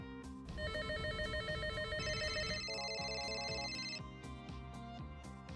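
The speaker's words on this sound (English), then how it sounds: "users can make their desktop phones, their soft phones, their mobile devices, and even their home phones ring at the same time" Several business desk and soft phones ring at once, electronic trilling ringtones overlapping in repeating bursts, close and steady, fading to softer rings toward the end, with no talking.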